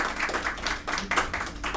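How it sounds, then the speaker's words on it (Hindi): Short burst of hand clapping at a Hindi kavi sammelan poetry gathering, audience claps irregular and moderately close, with a few louder accents, no talk over it. "वैभव भैया के लिए जोरदार तालियां बजा दीजिए"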